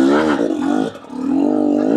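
KTM EXC 250 dirt bike engine revving up and easing back on an off-road trail, loud and close, with a brief dip in the middle before rising again.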